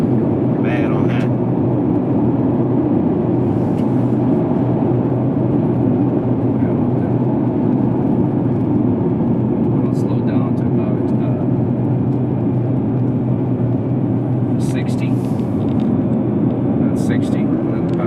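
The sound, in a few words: road noise inside car on rough road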